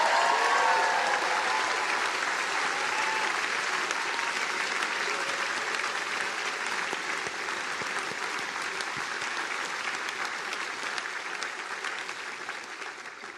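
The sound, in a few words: audience applause for graduates' parents and families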